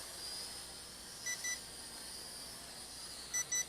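A Feilun FX176C1 GPS brushed RC drone transmitter sounds its low-battery warning, paired short electronic beeps repeating twice over a faint hissing background.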